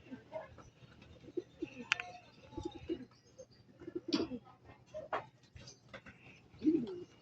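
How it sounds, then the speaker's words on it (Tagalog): Soft, low pigeon coos repeat intermittently, close by, with occasional clicks and rustles and a faint mechanical hum underneath, from Stanley Boy racing pigeons. "Dito na pala nakadapo. Yan mga kaibon, mga Stanley Boy, oh. Papasukin natin."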